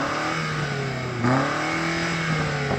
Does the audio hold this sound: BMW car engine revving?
yes